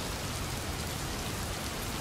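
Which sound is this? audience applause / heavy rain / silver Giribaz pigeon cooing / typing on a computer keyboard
heavy rain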